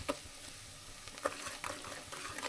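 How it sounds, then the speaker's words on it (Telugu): Chicken curry frying in a pan over a medium flame while being stirred, giving a soft steady sizzle with a few light scraping knocks of the spoon, close and fairly quiet with no talking. "మీడియం ఫ్లేమ్లో పెట్టుకొని కొంచెం ఫ్రై అయ్యేదాకా ఇట్లా కలుపుతూ ఉండాలి"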